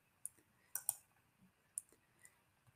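Computer mouse clicking during an online webinar, a few sharp, quiet clicks spaced irregularly, some in quick pairs, over near silence.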